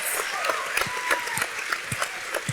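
Audience applause at a film festival documentary panel, a light scattering of claps under a speaking voice, with a few distinct hand claps standing out nearby.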